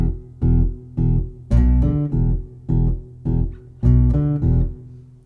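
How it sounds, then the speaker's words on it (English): Bass riff played through a Boss OC-3 Super Octave pedal, adding a deep octave-down layer: a loud, close phrase of sustained notes in short repeating bursts with brief gaps, no talking. "It drops every note that I play by an octave,"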